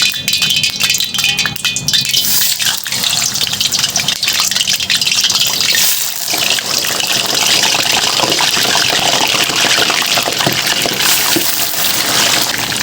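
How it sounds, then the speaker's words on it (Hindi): Chicken pieces dropped into hot oil crackle and sizzle loudly and steadily, a dense spattering hiss that runs unbroken through the whole stretch with no voices over it. "हमारा जो ऑयल है वो गर्म हो चुका है। अब मैं डालूँगी इसके अंदर चिकन"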